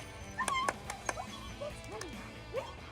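A water dog whimpers, with several short, high-pitched whines and yips in quick, uneven bursts, close by and moderately loud over a low background.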